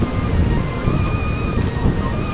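Ocean surf rolls steadily at Kuta Beach in Bali, a broad continuous wash with wind buffeting the microphone and a faint tonal hum in the background.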